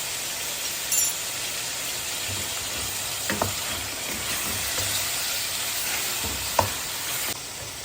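Tomatoes, onion and chicken fry together in a pan for aloo gosht, a steady close sizzle with a few soft stirring scrapes and clinks scattered throughout, no talking.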